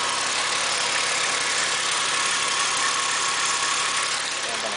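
A Porsche engine idles just under 1,000 RPM after a cold start with the trunk open, a steady, even hum recorded up close that holds constant the whole time.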